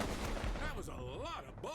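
Rapid bursts of gunfire from the video game Combat Champions, loud and dense over a busy game soundscape, with warbling effects sweeping through the second half.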